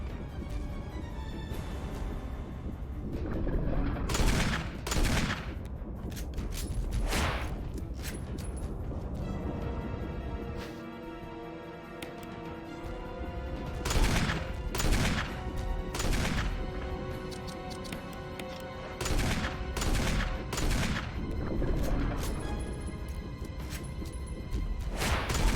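Gunshots fired at an enemy in the Resident Evil Remake, sharp bursts spaced irregularly across the clip over a dense game soundtrack, with heavier clusters of shots near the middle and end.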